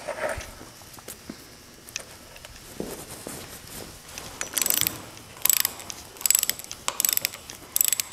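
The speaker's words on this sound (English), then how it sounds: "I'm tightening my last bolt on the cover here" Ratcheting wrench tightening the last bolt on a steering cover during a wobbly steering repair, heard as bursts of quick clicking pawl ratchets from about the midpoint onward, close and fairly quiet with some clanks earlier.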